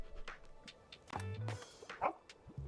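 A dog yips and barks a few times in the Tiny Bookshop video game, small and fairly quiet, with a soft whimpering tone among the calls.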